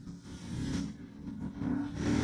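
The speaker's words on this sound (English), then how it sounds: "we're not going to keep revving the engine like this" A Royal Enfield Bear 650 motorcycle engine revs close by in São Paulo, a steady low rumble that swells with throttle blips and climbs toward the end, with no talking.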